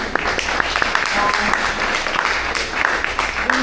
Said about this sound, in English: first we'll give a big round of applause